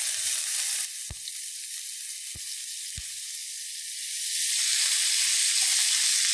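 Diced sausages, 800 grams, hit a wide frying pan greased with a spoonful of vegetable oil and crackle into a loud, steady sizzle, broken by a few sharp clinks of a utensil against the pan.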